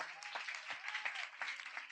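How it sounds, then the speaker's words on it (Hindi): Church congregation applauding during a Hindi-language worship service, a steady wash of many hands clapping heard at a distance, fairly faint, with no speech over it. "जोरदार ताली बजाकर"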